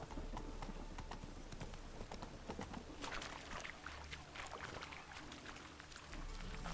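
Hooves of the horse Roach clip-clop in a steady, fast galloping rhythm across the Witcher 3 game world, loud and continuous from start to finish, with no voices over it.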